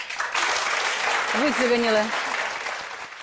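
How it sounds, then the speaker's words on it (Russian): Steady applause from a television studio audience fills the room throughout, with a brief voice-like tone rising over the clapping midway. "Обратите внимание, пожалуйста, аплодисменты."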